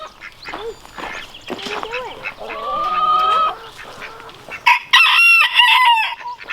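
Hens cluck and squawk close by on a farm with goats, and a rooster crows loudly near the end, with more clucking around it.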